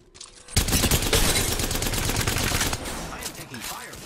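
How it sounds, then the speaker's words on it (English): Gunfire in Apex Legends, a sudden loud burst of rapid automatic shots that sets in after a short quiet moment and continues in dense volleys, easing slightly toward the end. "I am taking fire, friends."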